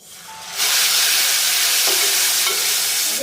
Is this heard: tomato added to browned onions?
yes